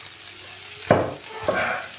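Ingredients for vermicelli upma fry in a pan under a quiet background sizzle, broken by two distinct, close stirring scrapes about half a second apart. No one speaks.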